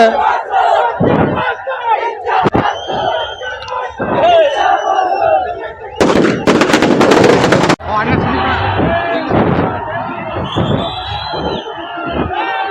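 A packed crowd of Sudeep fans shouts and cheers outside the Sangam theater. A burst of sharp crackling pops, like firecrackers, rings out over the roar partway through, then the yelling carries on.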